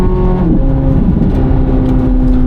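A 670 hp 2024 Corvette Z06 heard from the cabin, its engine droning loud and close as it accelerates, with a brief dip in pitch around a gear shift before the steady roar resumes.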